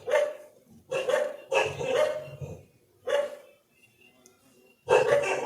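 A dog barks in several loud, close bursts, some in quick pairs and others separated by quiet pauses, with a final bark at the end.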